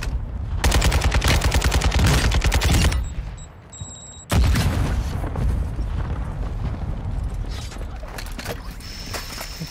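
Rapid automatic gunfire in Call of Duty: Modern Warfare 2, a hard-recoiling weapon rattling off two long, loud bursts of fast shots separated by a brief pause, close and dominant with game ambience and no speech.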